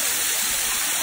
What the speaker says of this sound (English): Over to that waterfall right there.